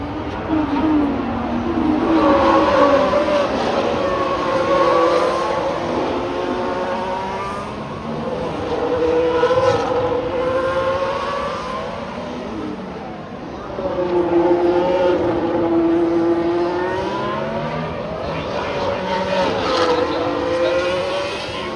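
Formula 1 race cars at the Las Vegas Grand Prix pass in repeated waves, high engine whines rising and falling as they sweep by at a distance, steady and fairly loud throughout.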